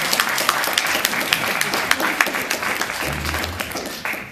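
Audience applause at a panel discussion, a steady wash of many hands clapping throughout, fairly loud and continuous, with a faint voice briefly audible near the end.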